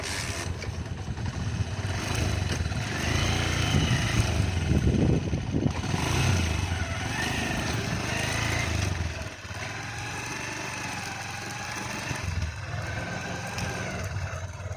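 A motorcycle engine drones steadily at close range, rising and falling as it revs, riding through floodwater in Biñan, Laguna, with broadband splashing churning underneath throughout.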